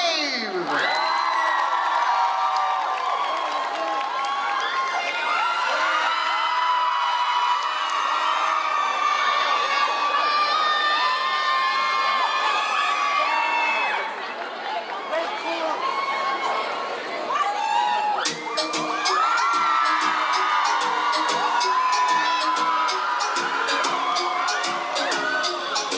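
A crowd at a K-pop dance contest cheers, whoops and shouts loudly and continuously as a dance crew takes the stage, with children's shrieks and applause mixed into the steady roar.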